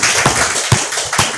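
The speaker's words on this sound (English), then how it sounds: "Shall we give ourselves a big round of applause once again?" Short burst of audience applause at a small event, a few distinct claps standing out over a steady dense wash of clapping, close and fairly loud.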